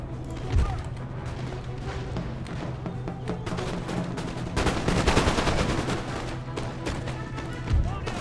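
Musket volleys from long riflemen in Empire: Total War crackle as repeated ragged gunfire bursts, with a heavier rolling volley near the middle and sharp reports at the start and end, all under dense battle noise and spoken commentary.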